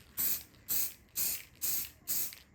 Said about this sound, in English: with this rattle can, all I do is just give it a quick shake up and then keep it low and just spray it